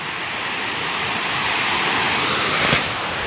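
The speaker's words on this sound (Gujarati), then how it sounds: "અત્યારે બધામાંથી એટલું પાણી પડે છે" Water roars steadily over the overflowing Shetrunji dam, a dense, continuous rushing wash that stays loud and unbroken throughout, with no voices.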